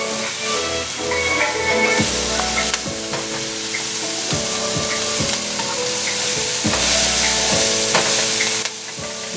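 Ground meat frying in a hot pan with a loud, steady sizzle, broken by the scrape and clatter of stirring at intervals, no talking.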